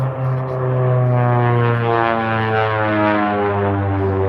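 A racing biplane engine roars steadily at wide open throttle during a heat race, a loud harmonic drone that holds close and constant with no voices.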